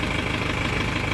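A tractor engine idles close by, a steady low chugging rumble with an even, rapid knock that holds constant through the brief moment, with no talk over it.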